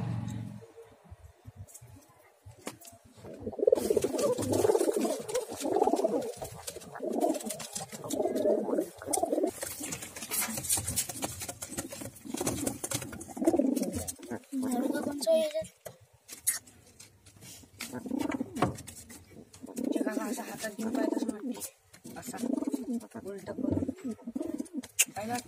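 Pigeons coo in repeated soft throaty rolls through a pigeon sale, close and steady, with people talking over and between the calls.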